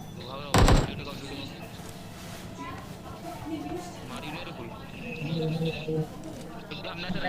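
An AWM sniper rifle in the game PUBG Mobile fires a single loud, sharp shot near the start, followed by ongoing in-game sounds while a player talks throughout.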